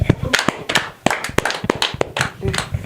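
An audience claps hands in a run of sharp, uneven claps at close range, mixed with a voice talking.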